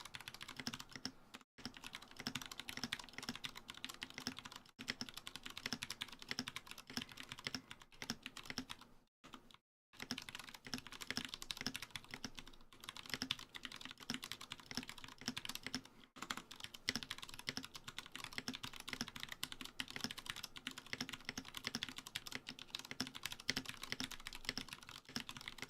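Continuous, fast typing on a mechanical keyboard with lubed Cherry MX Brown switches, soft, muted keystrokes, close and steady, with a couple of brief pauses.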